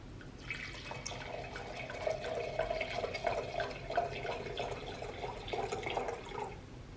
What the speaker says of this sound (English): we're just gonna pour some of the wine in